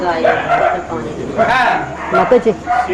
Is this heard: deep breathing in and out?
no